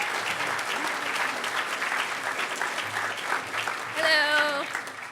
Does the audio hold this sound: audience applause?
yes